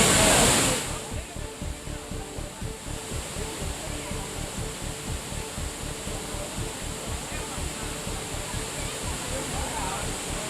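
Courtallam waterfalls roar in a steady, loud rushing wash of water where tourists bathe, continuous and broadband from start to finish after a brief louder burst at the opening.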